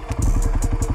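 Honda 300ex ATV engine while riding, a rapid, close thumping putter with regular rhythmic pulses throughout a brief burst.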